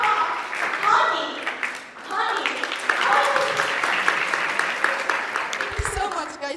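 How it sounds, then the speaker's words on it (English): Audience clapping in a speech hall, a loud, dense, steady applause from many hands, sustained for several seconds with some voices mixed in. "Thank you so much, guys, for this clap"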